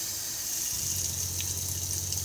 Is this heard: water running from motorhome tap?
yes